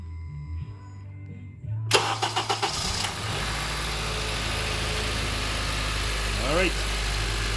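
A JDM K24A engine from Japan, freshly swapped into a 2010 Acura TSX, cranks and catches with a quick rattling burst, then settles into a steady, loud, close idle.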